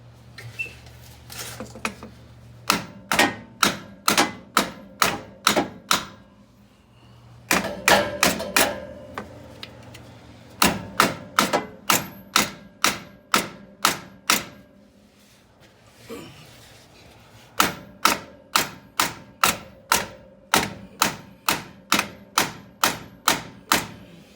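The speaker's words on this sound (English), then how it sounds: "We're gonna focus with a small sledgehammer right on this area in here, trying to hit this a bunch of times to get it to break free from this flange here" A small sledgehammer pounds a Jeep JK front drive line flange in rapid metallic blows, struck in bursts of a dozen or so hits separated by brief pauses.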